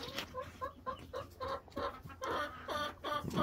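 Chickens, including a silkie and Brahma hens, cluck in a coop during egg collection, with a close series of short, uneven clucks and squawks overlapping through the moment.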